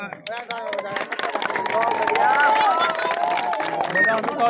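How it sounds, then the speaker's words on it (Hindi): A group of villagers claps together outdoors during a ground report on panchayat elections, quick claps over lively chatter and voices, growing louder and denser partway through. "चलो बाला को ताली बजाओ"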